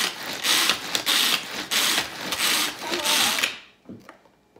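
Rhythmic grinding and churning from a hand-crank food chopper in repeated strokes, about eight cycles, close and loud, stopping abruptly near the end.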